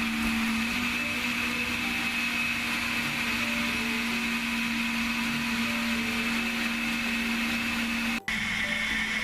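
A blender purees tomatoes for tomato paste, running steadily with a loud, constant whirring hum, briefly cutting out near the end before resuming, with no talking.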